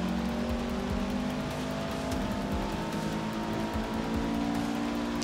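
A race car is driven in Forza Motorsport 6, its engine droning steadily at moderate loudness with continuous road and tire noise and no clear gear changes, and no voices.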